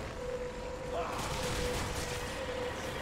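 Gunfire in Resident Evil 5 comes as a sustained barrage of shots, close and fairly loud, running under excited talking.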